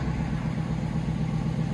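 A 2017 Dodge Charger R/T with its 5.7L HEMI V8 and BORLA ATAK axle-back exhaust with mid muffler delete, idling with a steady, deep, throbbing burble, close and continuous with no talk.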